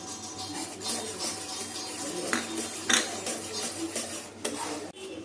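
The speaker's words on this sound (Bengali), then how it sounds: "এরপরে আমি গুঁড়ো দুধটা মেশাবো ওর সাথে" A spoon clinks and scrapes against a metal pot while stirring powdered milk into boiled milk flavoured with cardamom, several light taps and a sharp knock near the end, close and fairly quiet.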